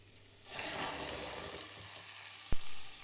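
Carrots hit a hot pan and a loud, steady sizzle of frying vegetables follows, with a sharp clack of a utensil near the end.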